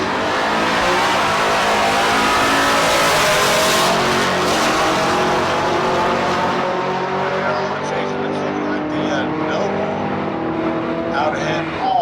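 Drag racing cars, including a silver Chevrolet Nova, roar loudly at a Street Car Super Nationals event in Las Vegas, engines revving hard and fading down the strip, with an announcer talking over them.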